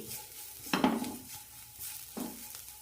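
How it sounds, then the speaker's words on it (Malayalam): An onion mixture with chili powder and garam masala sizzles gently in a pan, punctuated by two distinct spoon scrapes and stirs, quiet and close with no voices. "ഒരു മിനിറ്റ് നന്നായി വഴറ്റി കൊടുത്താൽ മതി"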